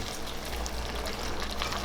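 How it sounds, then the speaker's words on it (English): A small splash of tap water rinses tomato sauce out of a can in a home kitchen, a steady faint hiss of running liquid with no voices. "I'm going to rinse this out with a little tiny bit of water"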